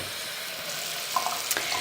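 Warm water runs from a sink tap in a steady, soft splashing stream, with a few small drips and clinks toward the end.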